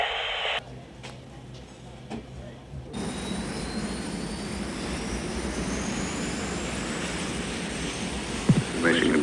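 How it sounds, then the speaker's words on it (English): Chase planes take off at Edwards Air Force Base, a steady jet engine roar that swells and holds loud after a short patch of radio-like crackle at the start. "Mission Control chase planes are taking off now at Edwards."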